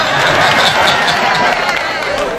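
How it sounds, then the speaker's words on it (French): A crowd at an RDR political investiture ceremony in Kouibly claps and cheers, a dense, loud, continuous wash of applause and chatter that eases slightly toward the end. "Applaudissez pour elle, elle est simple."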